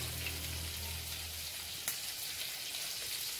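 Salmon fillets in a pan with butter, garlic and dill give off a steady, even sizzle and crackle of frying, moderately loud and uninterrupted, with no one talking.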